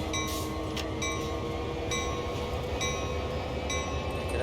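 A train rolls along in the video game Train Sim World 2, a steady rumbling drive with regular rhythmic clicks and a faint tonal whine, heard alone without speech.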